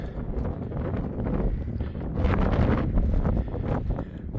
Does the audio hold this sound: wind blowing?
yes